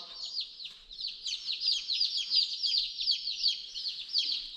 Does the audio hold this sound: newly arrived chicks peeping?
yes